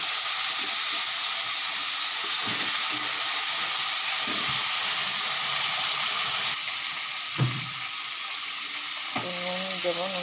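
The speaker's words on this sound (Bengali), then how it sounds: "তেলের মধ্যে আলুগুলো দিয়ে দিচ্ছি, ভালো করে ভেজে নেবো" Potato pieces frying in hot oil with radhuni, cumin, dried red chillies and bay leaves give a loud, steady hiss that runs throughout, broken by a few utensil knocks.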